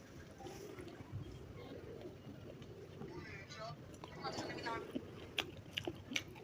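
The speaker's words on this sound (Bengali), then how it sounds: "খাওয়ার সময় শব্দ করে খাইতে হয়।" Someone chews singara loudly and crunchily at close range, with a few sharp bites near the end and faint background noise.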